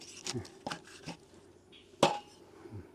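A knife chops a fish into pieces on a board, a handful of sharp, separate thuds spaced irregularly, with one louder crunching cut through bone near the end and quiet pauses between strokes.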